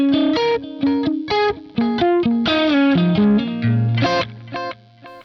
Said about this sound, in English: So that's kind of my dotted delay